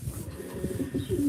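Racing pigeons coo softly in a loft, several low, throaty warbles overlapping in quick succession at close range, with no talking.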